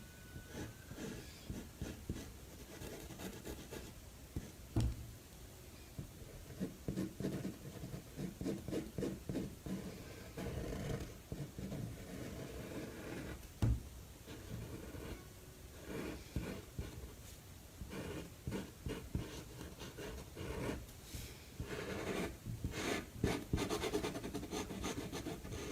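Marker strokes rubbing and scratching across paper while letters are drawn and colored in for hand lettering, a steady close-up rasp of repeated back-and-forth strokes with a few sharper taps, quiet throughout.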